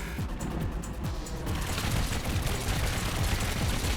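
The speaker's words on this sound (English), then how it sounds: "That's a pretty rapid fire cannon." Rapid-fire cannon in Trailmakers, built onto a custom craft, firing a fast stream of loud, overlapping blasts that keep a dense, continuous barrage going the whole time.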